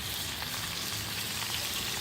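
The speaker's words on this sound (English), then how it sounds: "I'll get these 3 browned up, then I'll brown up the other 2." Salisbury steak patties browning in a pot, a steady close sizzle and crackle of frying meat that holds evenly throughout with no talk.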